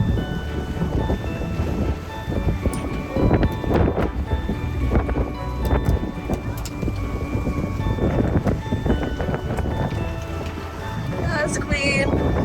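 Strong wind buffets and rumbles across the mic in heavy gusts on a swan boat at Ueno, with people talking faintly underneath and some water or rustling noise.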